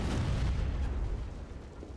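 Explosion of a cannon in the Captain America: Super Soldier PS3 game, a deep rumbling blast that fades over about two seconds, heavy in the low end and with no voices.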